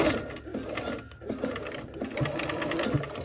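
Sewing machine stitching the final seam of a quilt block from the edge, a close, busy mechanical rattle of needle strokes running steadily throughout with brief slowdowns.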